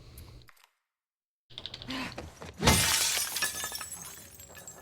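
In The Last of Us Part II, a pane of glass is smashed again after a short silence: a few soft clicks and footsteps lead into a loud, crisp shatter that trails off into lingering, glittering debris.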